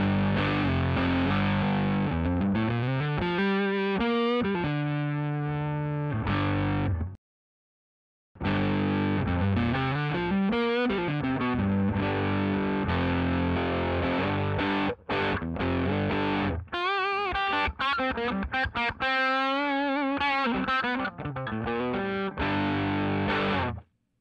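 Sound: guitar through BrownBox amp, squishy distorted tone

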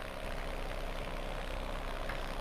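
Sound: unhealthy Ursus tractor engine running, from a video game

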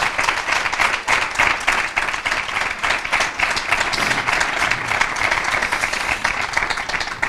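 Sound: audience applause

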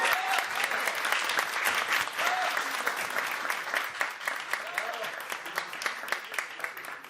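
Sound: audience applause at an iftar dinner

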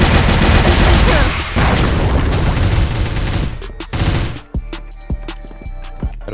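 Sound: grenade explosion in the video game CrossFire

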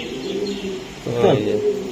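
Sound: racing pigeons cooing at a pigeon farm

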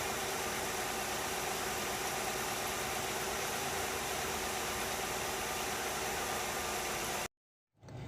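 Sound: Nissan Cefiro A33 2.0 engine idling

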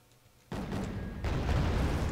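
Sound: artillery shots firing in the video game Wargame: Red Dragon

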